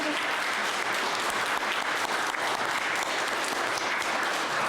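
Warm applause from the congregation at a Sunday Lent church mass fills the room as a steady, even wash of many clapping hands with no break.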